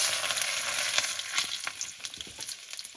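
Garlic, red chillies and whole spices sizzle loudly in mustard oil, a dense close frying hiss with scattered crackles and stirring taps, uninterrupted by voices.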